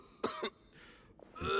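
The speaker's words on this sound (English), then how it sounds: "Why is he coughing so much?" A Genshin Impact character coughs twice in quick succession, up close, then after a short pause gives a harsher cough or throat-clearing.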